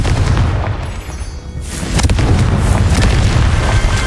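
A Confringo fire spell explodes in Hogwarts Legacy, a loud booming blast with a rumbling, crackling fiery burst that swells again after a brief dip.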